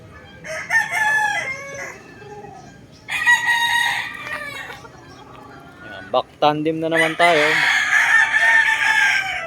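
Fighting roosters crow in several drawn-out bursts, loud and close, with someone talking between and over the calls.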